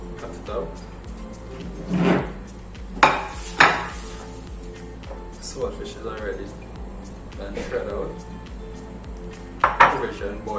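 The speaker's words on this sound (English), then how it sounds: "I gotta wash my wares" Dishes, pots and pans being washed in a home kitchen in Trinidad, with irregular clanks, scrapes and clinks of cookware and cutlery close by, several sharp knocks standing out over running background noise and occasional voices.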